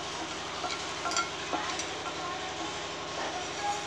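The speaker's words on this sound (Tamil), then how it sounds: "கடுகு கொஞ்சம் வறுத்துக்கணும்." Mustard seeds dry-roast and are stirred in a pan for sambar masala powder, a continuous close scraping rumble with light crackles and soft taps.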